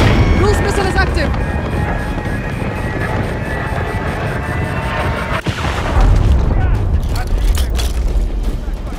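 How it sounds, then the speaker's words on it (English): A deep, rumbling explosion and sustained roar fill the scene during a cruise missile strike in the video game Call of Duty: Modern Warfare 3, loud and continuous with a brief dip midway before the rumble swells again. "Cruise missile is active!"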